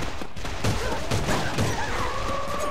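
Gunfire in the online shooter A.V.A. in a prison-break ghost mode: bursts of shots crackle through a busy, dense game mix, with scattered sharp cracks over a steady background din.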